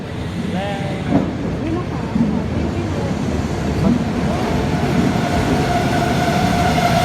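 Steady rumble of a train idling or moving slowly at a platform in Surin, Thailand, with a constant mechanical drone and faint background chatter throughout.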